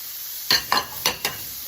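Half a large onion and sliced green onions hit shimmering olive oil in a skillet, giving four quick sizzling hisses in a row, close and distinct over a quiet background hum.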